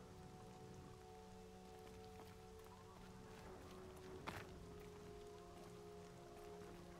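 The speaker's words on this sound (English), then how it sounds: "Oh, it started raining on me." Soft, steady video game rainfall in Horizon Zero Dawn patters throughout at a low level, with a faint hum underneath and one brief tap partway through.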